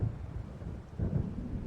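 Low rumbling thunder from an approaching storm in the video game Alan Wake, rolling continuously with a swell near the end, heavy and distant-sounding, with no speech.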